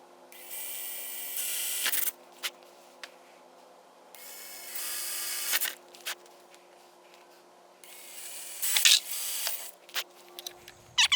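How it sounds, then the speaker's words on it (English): Power drill boring holes to mount a front splitter on a Corvette C8, three separate whining bursts of a couple of seconds each with quiet handling noises and clicks between them. "we'll go ahead and get a drill out, drill some holes"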